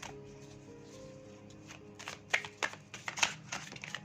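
Tarot cards are shuffled and drawn during a monthly reading, giving soft papery riffles and several sharp flicks and slaps of card stock. The sounds are quiet and close, set against a faint steady background hum.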